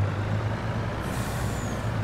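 A truck's air brake in Farming Simulator 22 releases a loud, steady hiss over a low engine rumble, holding close and constant for about two seconds.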